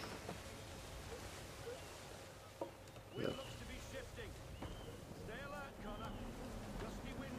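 A sailing ship moves across open sea in Assassin's Creed 3, with a steady wash of wind and waves, a couple of brief creaks and thumps, and faint game sounds in the background.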